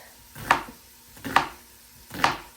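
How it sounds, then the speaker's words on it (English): A knife chops an onion on a cutting board while meatballs are prepared: three evenly spaced, crisp thuds about a second apart, close and clear with quiet gaps between. "I'm gonna go ahead and chop this onion for our meatballs"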